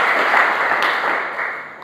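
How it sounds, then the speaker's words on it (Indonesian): A church congregation claps together for Jesus in a short, lively burst that fades slightly toward the end, with no talking over it. "Tepuk tangan dulu dong yang meriah bagi Tuhan Yesus"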